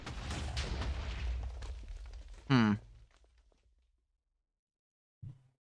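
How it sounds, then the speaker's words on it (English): Explosion in a Minecraft mod built around Jujutsu Kaisen Limitless powers: a rumbling blast that fades over about two seconds, a sharp sweeping zap right after, then a short dull thud following a brief silence. "It's exploding."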